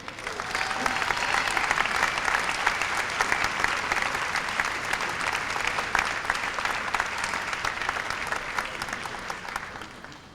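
Sustained crowd applause at a 1993 high school senior academic recognition awards ceremony: dense, even clapping that continues steadily throughout, with no break.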